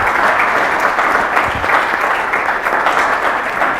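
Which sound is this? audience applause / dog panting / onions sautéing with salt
audience applause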